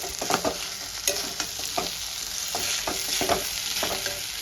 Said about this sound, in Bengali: এবার আলুটা একটু আমি ভেজে নেব।